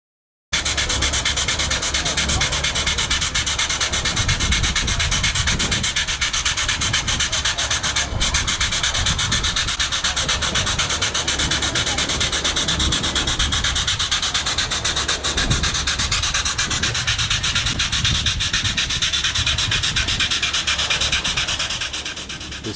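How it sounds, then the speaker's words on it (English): Pneumatic grease gun greasing train bearings gives a continuous loud, gritty hiss and rasp that runs unbroken for over twenty seconds, fading slightly at the end, with no talking. "sound you hear is them activating the grease gun"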